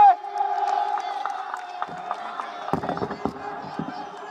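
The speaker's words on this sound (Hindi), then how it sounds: "जोरदार तालियों से अभिनंदन स्वागत करेंगे" A crowd at a political rally in Delhi cheers and claps to welcome Yogi Adityanath, a sustained roar with a held tone early on, then scattered sharp claps and shouts rising toward the end.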